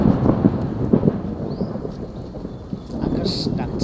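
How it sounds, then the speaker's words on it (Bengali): Thunder rumbles loudly over a park near Barishal city, Bangladesh, with rain falling and a low continuous roll filling the whole moment. "আকাশ ডাকছে বজ্রপাত।"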